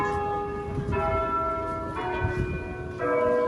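Church bells ring in California, their sustained metallic tones swelling and layering in repeated strikes across the clip with steady, resonant overtones and a low background rumble.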